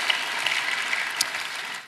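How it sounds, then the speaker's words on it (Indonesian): A church congregation claps together for God during a sermon, producing a dense, steady wash of applause that holds for nearly two seconds before tapering slightly, with no voices over it. "Berikan tepuk tangan kita untuk Tuhan kita"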